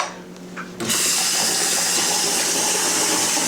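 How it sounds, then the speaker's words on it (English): After a brief quiet moment, a tap is turned on and cold water gushes out in a steady, continuous stream, loud and close. "We're gonna just go ahead and turn on the cold water."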